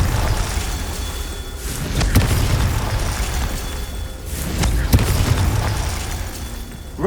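Two booming fire-spell explosions from the Confringo curse in Hogwarts Legacy, each a sharp blast that rolls out over a steady game-world rumble, about three seconds apart.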